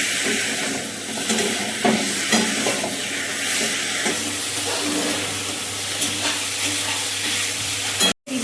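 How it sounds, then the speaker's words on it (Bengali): Mutton fries and is stirred in a kadai with hot onion oil, giving a steady loud sizzle and hiss broken by repeated scraping stirs, ending with a brief cut-off. "প্লেট করা মাটনটা এখন আমি কড়াইয়ের মধ্যে দিয়ে দেবো।"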